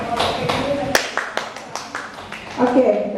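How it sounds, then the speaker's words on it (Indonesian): A short burst of scattered clapping from an audience at a school positive-culture dissemination session, with someone talking over it before and after the claps. "tepuk tangan untuk Ustazah"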